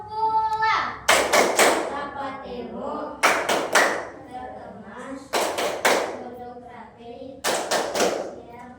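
Groups of children in a classroom chant in unison, broken by several short bursts of sharp, rhythmic clapping in quick triplets.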